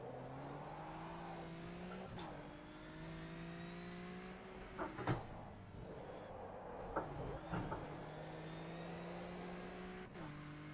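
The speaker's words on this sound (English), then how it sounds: "I can also feel the car accelerating a lot more than it did before." Race car in the SRCA racing game with a rear wing, its engine droning and rising in pitch as it accelerates through the gears, with brief drops at shifts and some squeal-like bursts near the middle, steady and close throughout.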